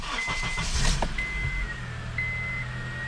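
A 2005 Honda CR-V engine cranks briefly and catches, then settles into a steady low idle with a faint electronic tone chiming above, close by and alone.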